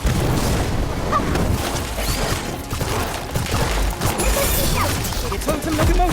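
Fiery bursts and crackling booms from the Incendio spell during a duel in Harry Potter: Magic Awakened, dense and loud game effects running throughout with a voice calling out over them.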